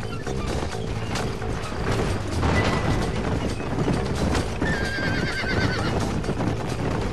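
Horses whinny and clip-clop in the Red Dead Redemption video game, with galloping hoofbeats, clattering mechanisms and a loud neigh near the end, all in dense game audio.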